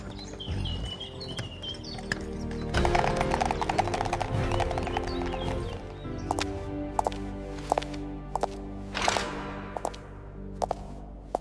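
Horse-drawn carriage with clip-clopping hooves, a steady moderate rhythm of hoofbeats over a rolling rumble, with sharp clear knocks standing out in the latter half and faint birdsong nearby.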